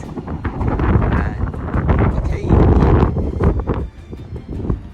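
Fierce wind at the summit of Mount Fuji blasts the microphone in loud, gusting surges, rising and easing over a few seconds, with a brief spoken word underneath.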